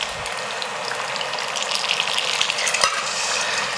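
Water hits a hot pan of eggs, producing a loud, steady hiss of sizzling and steam that stays dense and continuous throughout, close up and without speech.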